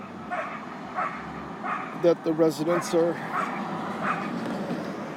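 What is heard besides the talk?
small dogs barking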